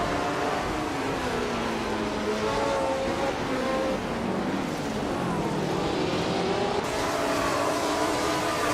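A 1963 Brabham BT3 Formula 1 race car roars through a race, its engine note rising and falling steadily with shifting pitch as it pulls through gears, loud and continuous throughout.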